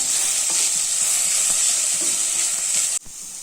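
Ground paste and onions for vegetable kurma are stirred in a hot pan with a continuous loud sizzle, with light scraping strokes, before the frying cuts off abruptly near the end.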